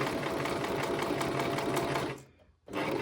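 A sewing machine zigzag-stitches on paper, a steady close mechanical whirr that runs continuously, then stops briefly near the end and starts again.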